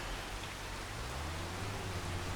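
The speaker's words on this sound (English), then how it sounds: "Just as the rain sets in and it starts getting dark" Rain setting in over a freshly mulched farm field at dusk, a dense steady broadband hiss with low rumbling underneath, constant and fairly loud throughout.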